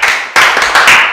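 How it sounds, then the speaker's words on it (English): Brief clapping for a student in a classroom, a couple of loud bursts of hand claps from a small group, close and dense, lasting about a second. "Clap for her."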